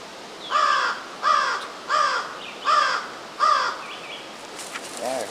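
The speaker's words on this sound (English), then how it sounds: "Where's you, Crow?" Crow cawing outdoors, five loud harsh caws evenly spaced about a second apart, followed by fainter calls at the end.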